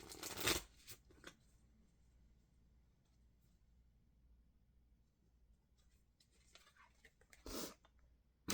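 Enchanted Map Oracle cards shuffled by hand, two short crisp riffling bursts near the start and another near the end, with quiet gaps between, close and soft.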